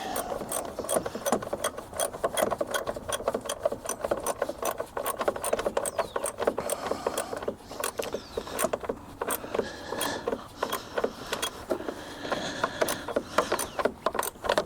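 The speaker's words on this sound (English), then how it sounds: "Tighten this bolt down, that's half the battle right there." Ratchet tightening a bolt outdoors in the cold, a close continuous run of rapid raspy clicks that keeps up throughout at an even pace.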